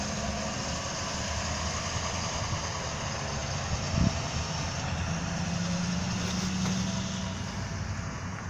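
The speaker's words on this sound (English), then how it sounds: "We're just going to go ahead and drive it around a little bit," A 2015 Ford F-550 construction truck drives along with a steady, continuous engine and road rumble, fairly loud and unbroken, with a brief knock near the middle and no speech.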